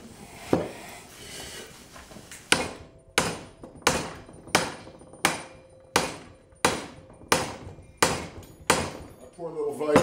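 Hammer blows strike a TIG-welded steel pole arm during destruction testing on a workbench, about nine sharp, loud, evenly spaced impacts each ringing briefly, with a faint voice and clatter before the first blow.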